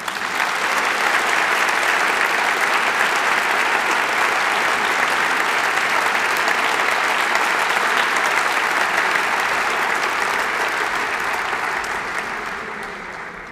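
Sustained audience applause at a 2022 university academic ceremony: dense, even clapping from a large crowd that holds steady for about twelve seconds before tapering off, with no talking over it.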